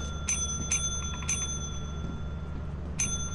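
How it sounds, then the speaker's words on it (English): A bell in the Lethal Company video game rings in bright, clear dings, four strikes in an uneven rapid series over a low ambient hum. "you have to stand in front of it and then spam the bell"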